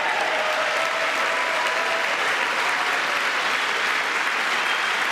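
Applause from a large audience at a presidential address to a joint session of Congress, dense and sustained at a steady, loud level throughout.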